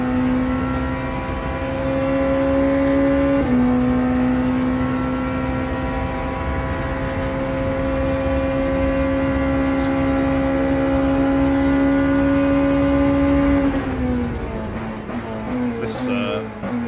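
A race car engine in the sim racing game Le Mans Ultimate holds a steady, loud drone for a long stretch, with one brief shift early on and a drop in revs near the end.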